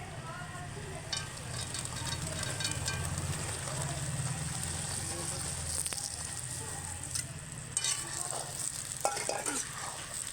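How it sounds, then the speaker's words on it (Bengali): Jujubes tipped into a hot pan for pickle-making, giving a steady broadband sizzle and frying hiss throughout, with low kitchen rumble and brief clatters near the end. "আর কুলটা ঢেলে দিচ্ছি।"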